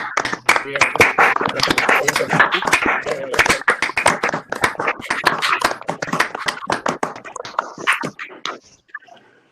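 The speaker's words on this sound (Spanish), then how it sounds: "los y las invito a hacer un aplauso a Grupo Joven Cari" Hands clapping at a professional development workshop, loud, close and uneven, with individual claps standing out, voices and shuffling mixed in, before tapering off at the end.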